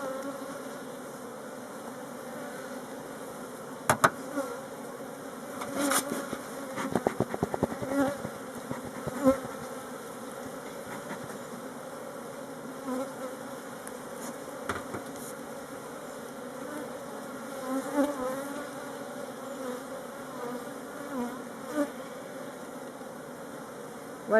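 A honeybee swarm being moved from a nucleus box into a hive, with frames heavy with honey and pollen. Continuous nearby buzzing is broken by a few sharp handling knocks and thumps.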